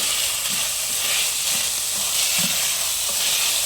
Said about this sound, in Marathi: ही आपण चांगली परतून घेणार आहोत